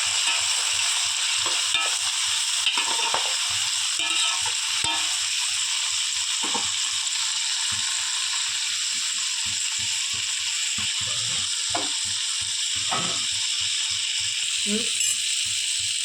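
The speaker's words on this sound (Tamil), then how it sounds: "நம்ம நறுக்கி வச்ச தக்காளியை சேர்த்து நல்லா ஃப்ரை பண்ணணும்" Tomatoes fried with ginger and garlic in a pan, giving a steady hissing sizzle with a rhythmic series of spatula knocks and scrapes as the mixture is stirred, close and continuous.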